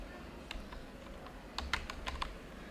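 Computer keyboard typing on a desktop, clusters of sharp key clicks in short bursts with a pause between, close and fairly quiet over a faint low hum.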